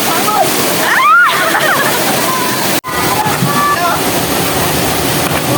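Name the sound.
water splashing at Kalisang Falls waterfall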